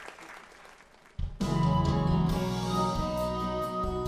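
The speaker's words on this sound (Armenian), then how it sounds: "Ծափահարություններ Աշոտին" Studio audience applause on a televised melody-guessing game show, a short burst of clapping quickly overtaken by loud music.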